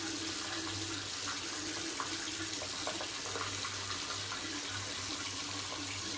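Tap water runs steadily into a sink during a wet shave lather with a stainless razor and brush, a continuous close splashing hiss with no talk.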